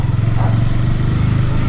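A motorcycle rides loudly and up close along a muddy dirt road, its engine holding a steady drone with some rough clatter and no clear changes in pace.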